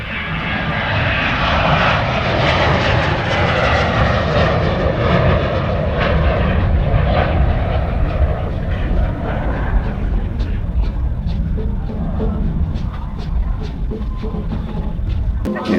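A fixed-wing aircraft taking off, its engine roaring loud and close for the whole stretch with a steady, heavy rumble that thins slightly toward the end.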